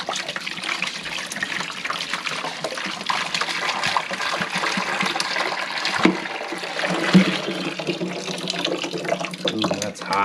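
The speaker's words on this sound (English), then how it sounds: "we're going to fill up the Yeti with hot water" Hot water pours steadily into a Yeti cooler to set up a sous vide bath for steak, a continuous close, loud splashing rush that runs for the whole stretch with no talk.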